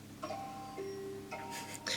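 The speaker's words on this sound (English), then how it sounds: "Sorry, that's my alarm." An alarm goes off indoors with steady electronic tones that start and stop in short bursts, faint and in the background, with no talking over it.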